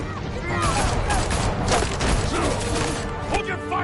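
Gunfire in Batman Telltale rattles in rapid close volleys mixed with crashes and mechanical clatter, while shouting voices sound over the shots.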